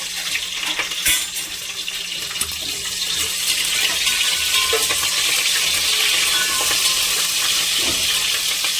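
Green chillies are stirred into a hot pot for biryani, making a bright, hissing sizzle that builds and then holds steady, with a few scraping knocks early on and no voices.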